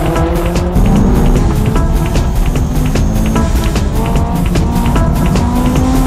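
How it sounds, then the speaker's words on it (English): Honda S2000 racing into a hairpin on a mountain pass, its engine note sustained and loud with shifting pitch, mixed with other race-car noise and possible tire squeal throughout. "Tsuchiya's S2000 leading into the hairpin."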